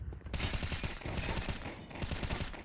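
Rapid bursts of gunfire from a Counter-Strike match on Inferno, loud and dense with quick repeated shots in clusters, and a caster's voice faint beneath.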